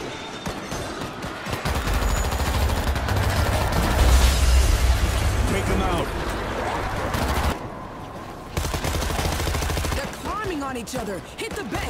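Gunfire in the zombie shooter World War Z, with bursts of shots and rattling weapon sounds under game music and in-game voices shouting.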